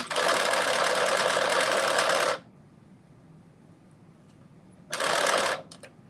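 A sewing machine stitches a gathered ruffle onto fabric for a caftan in two close, rapid whirring runs, a long burst of about two seconds, a pause, then a shorter one, followed by small clicks.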